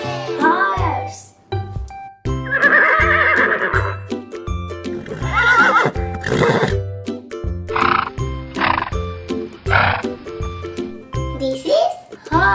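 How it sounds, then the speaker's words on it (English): Animal toy sounds play during a toy unboxing, with repeated horse neighs and whinnies over a bouncy rhythmic music backing, loud and close throughout. "This is horse."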